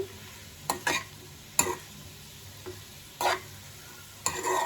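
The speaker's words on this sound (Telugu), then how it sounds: "మళ్ళీ ఒక 5 మినిట్స్ మగ్గించుకుందామండి" Potato pieces frying in a pan with garlic, stirred by a utensil in several separate scraping bursts over a soft continuous sizzle, close up with no talk.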